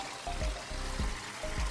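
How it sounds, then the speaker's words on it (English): Water spills over a rock in a medium pondless garden waterfall fed from a cedar log, a quiet steady trickle with soft, regular splashing pulses and no voices. "this is kind of just your normal fall coming over a rock, coming down"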